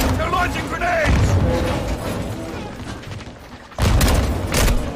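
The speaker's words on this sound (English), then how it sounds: "They're launching grenades!" Grenade launcher explosions in Call of Duty: Modern Warfare 2 campaign: loud thumping blasts and debris bursts, with a fresh heavy burst late on, amid frantic shouting voices.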